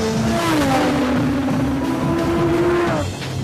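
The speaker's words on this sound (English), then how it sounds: "The reason it's so fast is not only because it's powered by a 570 horsepower V10" A Lamborghini Sesto Elemento with a 570 horsepower V10 accelerates hard, its loud, close engine note climbing steadily in pitch before easing off at the end.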